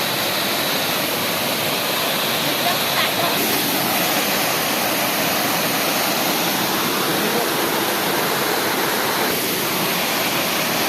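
Steady roaring rush of a hilltop waterfall in Deogarh, Odisha, loud and continuous, a broad wash of falling water with no voices over it.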